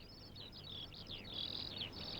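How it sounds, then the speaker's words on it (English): Birds sing up in a cherry tree, a quick string of bright chirps and warbling trills running almost continuously, soft and close. "up in the tree, the birds start to sing."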